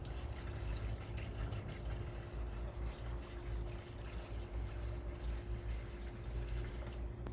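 Distilled water pours steadily into a 2013 Mercedes SL550 Bi-Turbo's radiator, gurgling, continuous and close, with a low mechanical hum underneath throughout.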